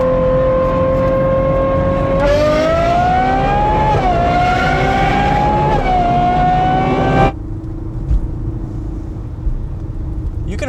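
A BMW with a naturally aspirated 3-liter inline-six revs up under load, the engine note climbing and holding loud and close before the throttle lifts and it drops to a low steady drone.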